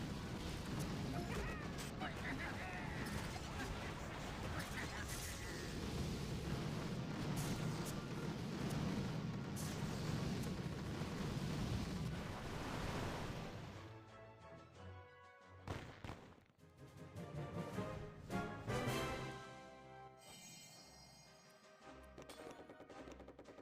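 Boom cannons firing and explosions fill a video game battle with mechs, a dense, loud and continuous barrage of booms that thins into scattered blasts near the end.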